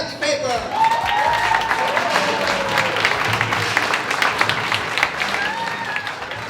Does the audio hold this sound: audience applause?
yes